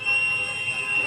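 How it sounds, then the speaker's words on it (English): A thin, steady high-pitched beep holds for about a second over a low, murmuring background. "Can you hear the beep?"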